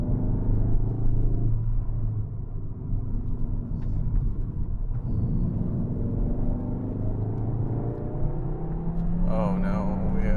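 A Cupra Leon with a DSG gearbox climbs the Klausen Pass mountain road, a steady low engine and road rumble from inside the car, with the driver talking over it throughout.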